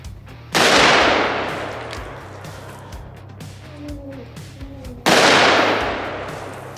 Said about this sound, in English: Did he shoot 4 or did he shoot 6?